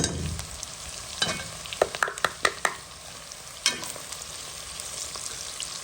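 Garlic, ginger and cloves fry in a pan with a steady sizzle while a utensil stirs them, scraping and clacking against the pan in a run of close, sharp knocks.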